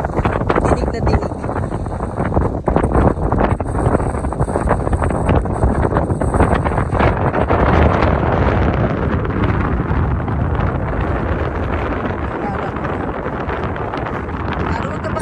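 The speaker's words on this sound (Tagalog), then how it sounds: "Kaya malakas ang hangin, ibig sabihin nasa tuktok na po ako na doon ng bundok" Strong wind roars across a mountaintop, buffeting the microphone in loud, continuous gusts that dominate throughout.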